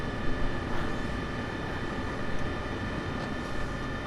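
A fast train running between New Rochelle and Newark in Train Sim World on PS4, a steady, dense rolling rumble with a constant high whine, heard from the cab without talk.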